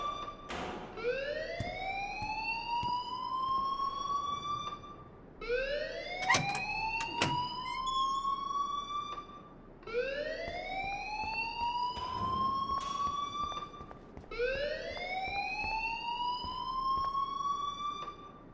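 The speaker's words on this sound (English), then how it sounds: "please turn off that alarm since that's your job." An electronic alarm rings in the video game Life is Strange, a loud rising whoop repeated four times in steady cycles with brief gaps between, joined by a few sharp clanks and bangs.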